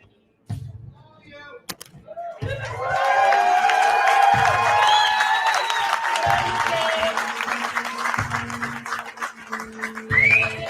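A large crowd at a public rally in Montreal applauds and cheers loudly for several seconds, with whoops rising over sustained clapping and a few quiet gaps broken by deep thumps.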